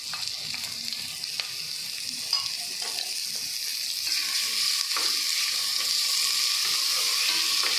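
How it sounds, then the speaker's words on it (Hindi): Steady sizzling and crackling from a hot pan as garlic and ginger paste is sautéed, with occasional scraping of a spoon as it is stirred and fried. "कुछ सेकंड के लिए लहसुन और अदरक को सौते करके"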